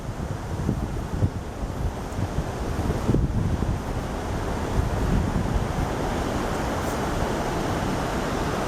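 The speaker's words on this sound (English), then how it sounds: "this is fast moving water" Fast-moving river rapids at Tahquamenon Falls rush in a constant broadband roar, with gusty wind buffeting the microphone and no talking.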